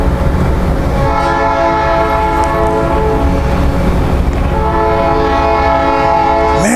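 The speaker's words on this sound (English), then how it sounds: "no one needs to honk a horn that much" A train horn near Sacramento blasts in long sustained tones that run loud and nearly continuous, with a brief dip before sounding again, close and dominant with rail rumble beneath.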